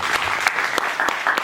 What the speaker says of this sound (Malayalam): കുറച്ചുകൂടെ പവറിലൊരു കൈയടി